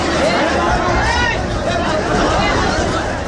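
A large, dense crowd of railway passengers at an Indian station, queued for the general coaches of a train, fills the air with loud, continuous babble of many voices close by.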